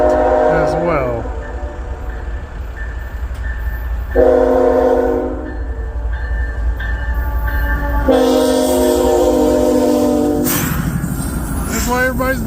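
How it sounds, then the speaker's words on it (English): A westbound Norfolk Southern mixed freight train rolls past with a heavy low rumble, its horn sounding in long loud blasts, chord tones starting near four seconds and again near eight, with a voice briefly heard. "second Norfolk Southern heading westbound. Looks like this will be mixed freight as well."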